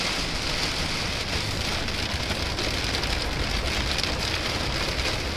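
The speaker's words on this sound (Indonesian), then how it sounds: "hujannya berlanjut." Heavy rain drumming steadily and loudly on a vehicle while driving down a mountain, a dense unbroken wash of sound throughout.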